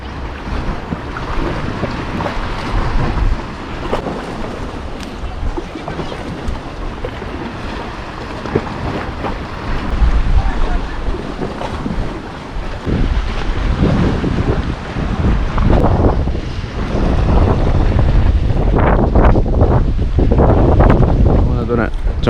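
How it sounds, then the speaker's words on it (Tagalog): Strong wind at sea off Bermuda buffets the microphone in loud, gusting roars, with water and fishing boat noise underneath and occasional distant voices. "Sobrang hangin lang kasi."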